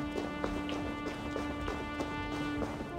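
Horse hooves clopping in the Assassin's Creed Valhalla video game, a steady run of soft hoofbeats over a constant, busy game ambience with a droning background tone.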